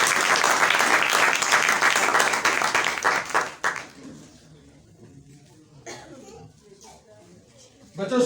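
A church congregation claps loudly and shouts hallelujah together for about three and a half seconds, then falls quiet, with scattered coughs and murmurs before another burst at the end.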